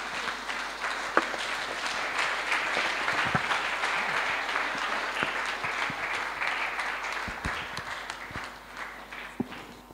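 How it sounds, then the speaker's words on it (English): Sustained applause from a large church congregation welcoming a pastor, steady dense clapping that fills the room for the full stretch with no voices over it. "give a round of applause as we welcome"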